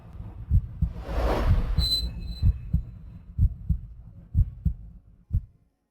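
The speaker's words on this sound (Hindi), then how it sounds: "इसकी वजह से मेरा दिल जोरों से धड़कने लगा है।" A heartbeat sound effect pulses steadily, with deep, close, loud thumps in a regular double rhythm, alone, after a brief airy swell near the start.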